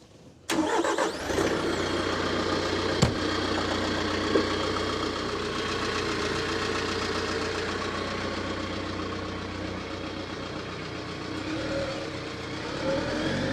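A heavy tractor engine cranks and catches, then settles into a steady, rumbling idle that continues close by without any talking.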